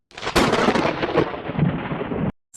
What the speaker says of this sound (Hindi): बादल ऐसे गरज रहे